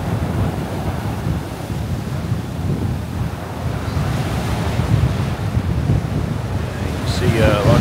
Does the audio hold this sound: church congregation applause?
no